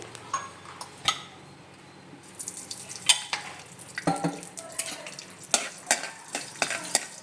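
Fenugreek seeds fry in a pan, a soft crackling sizzle punctuated by sharp scrapes and taps of a spoon stirring against the metal, irregular and close, with no talking.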